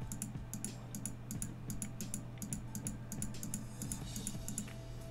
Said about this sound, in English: So I'm gonna click this 15 times.